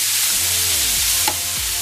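Keto soy spaghetti drops into a hot pan and sizzles in a loud, steady hiss, with a brief clunk partway through and low scraping sweeps under the frying.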